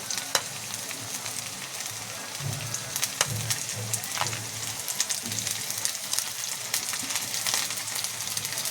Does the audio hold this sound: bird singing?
no